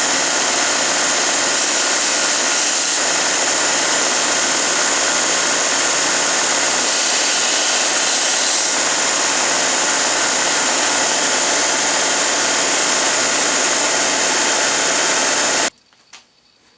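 An abrasive belt sander grinds continuously against a metal casting, a loud, steady, hissing whir that runs for about fifteen seconds before cutting off abruptly, followed by a faint knock in the near silence.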